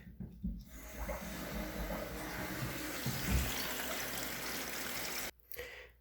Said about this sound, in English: you attach the hose and turn on your water supply